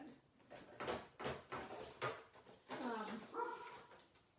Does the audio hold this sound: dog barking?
yes